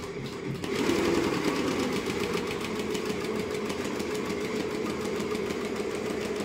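An HSW multi-needle embroidery machine starts up and runs at a steady, rapid mechanical rattle, loud and close, after a brief quiet click at the start.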